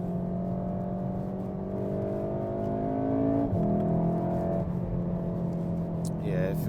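A VW Golf R engine hums steadily from inside the cabin, then its revs jump and shift during a paddle downshift before it settles back to a smooth drone. The engine stays loud and constant throughout.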